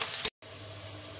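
Chopped onions fry in hot oil for a chicken curry, a soft steady sizzle that breaks off briefly and then carries on evenly.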